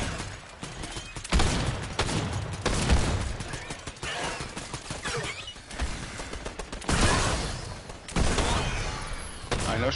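Gunfire in a multiplayer shooter video game: repeated bursts of shots and impacts in irregular clusters, loud and dense, with brief quieter gaps between volleys.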